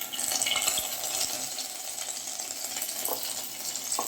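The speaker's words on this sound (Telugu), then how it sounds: "హీట్ ఎక్కిన తర్వాత ఆవాలు యాడ్ చేసుకోవాలి. ఆవాలు వేగిన తర్వాత కరివేపాకు యాడ్ చేసుకోవాలి." Mustard seeds and curry leaves frying in a spoonful of hot oil, a bright continuous sizzle with scattered crackles and pops, close and moderately quiet, no voices.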